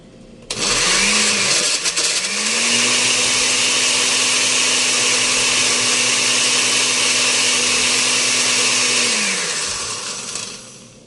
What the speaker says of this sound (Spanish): Ahora sí vamos a moler, a ver si no está muy dura la mezcla